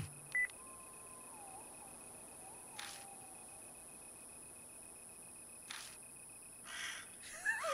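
Electronic phone beeps and a short warbling ring tone from the video game Spirit Hunter: NG, a few separate chirps spread across otherwise quiet background, faint and alone.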